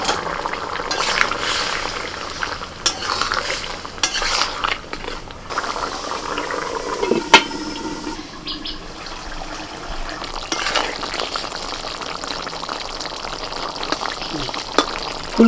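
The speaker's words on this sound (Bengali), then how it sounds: "এবার ভাজা ফুলকপিটা দিয়ে দেবো।" Fried cauliflower goes into a pot of partly boiled potato curry with water, giving a steady close sizzle and bubbling broken by occasional clinks and scrapes of a utensil, with no talking.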